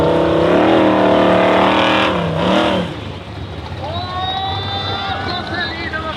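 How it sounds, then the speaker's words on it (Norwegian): Formula Offroad race car at a KNA Telemark round in Norway, engine roaring loudly up close then dropping back under wind noise, with a commentator talking over it. "Neste bil er i banen, det er Celine Grønning fra Trøndelag."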